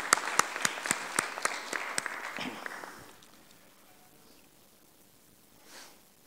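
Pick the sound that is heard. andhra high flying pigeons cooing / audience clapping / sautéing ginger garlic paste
audience clapping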